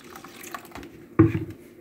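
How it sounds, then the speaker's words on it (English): Blended sorrel drink poured into a container, a short splashing liquid gush near the end, close and clear after a quieter stretch of soft handling noise. "I'm gonna pour this now into it."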